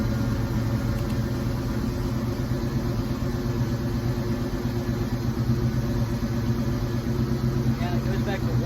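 A 1986 Mustang engine idles steadily with a continuous low rumble, moderately close and unchanging, with no talking over it.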